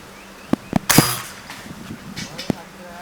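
Falcon air rifle fired outdoors in wind at a target: a few sharp, short cracks spaced apart, one louder burst near the middle and another single report later, with faint background noise between.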